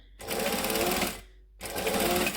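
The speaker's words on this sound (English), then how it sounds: "I'm just going to line it up by hand in the center and stitch down" Sewing machine stitching fabric along a center line in two loud, close bursts separated by a short pause.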